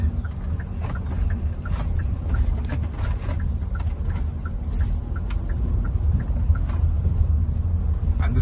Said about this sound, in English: So I'm taking this car on a bumpier patch right now